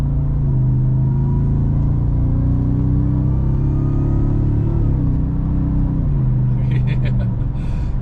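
A Ford Raptor R truck accelerates hard, its deep engine rumble climbing steadily and stepping down at several quick gear changes, loud and close throughout.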